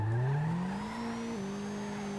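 A tuned police car in a car-modding video game drives off, its engine note rising steadily through the gears with a loud, continuous synthetic drone and a brief shift partway through, with no talking.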